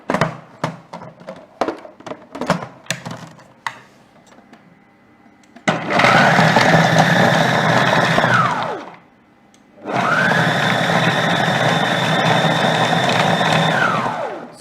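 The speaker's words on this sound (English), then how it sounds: "Some lemon rind, parsley, and I'm just going to blend it, really." Magimix food processor chopping lemon rind and parsley: a few clattering knocks, then two loud whirring motor runs of about three and four seconds with a short gap between, close by.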